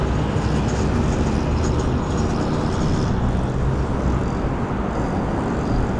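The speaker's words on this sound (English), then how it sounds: "I hate loud trucks, especially the ones where they make it loud." A loud truck rumbles past close by, a heavy broadband roar holding steady for several seconds before easing slightly, heard from a moving electric scooter with no talking.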